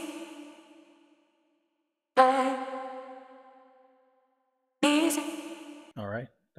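Three separate synth phrases from an Arcade plugin for a Kizomba, Kompa or Zouk beat, each a bright tonal stab that rings out and decays to silence, followed by a short warbling tail.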